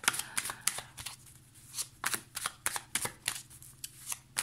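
Tarot cards are shuffled and drawn for a full moon reading, giving a quick run of crisp riffling snaps and slaps, close and fairly loud, with no voice.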